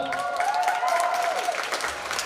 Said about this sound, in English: Cheer for number one.